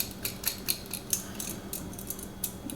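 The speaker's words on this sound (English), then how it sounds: "we're going to take our microplaner and we're going to zest that up so it is nice and fine" Fresh ginger root scraped across a microplane grater, a soft rhythmic rasping stroke repeated about every quarter second, close and quiet.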